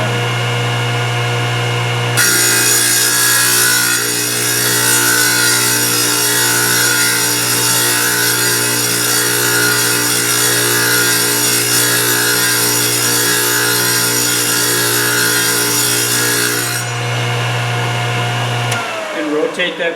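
A Thorvie AV-40 sharpening machine hums loudly and steadily while grinding a hole saw, starting abruptly and running continuously before spinning down.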